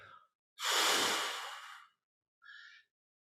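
A person forcefully breathes out every bit of air from the lungs in one long, loud, near exhale lasting over a second, with a short softer breath just before it and another after.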